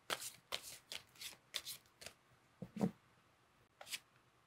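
Tarot cards being shuffled by hand, a series of crisp riffling bursts with short pauses between, close and fairly quiet, about nine rapid flutters in a row with no talking.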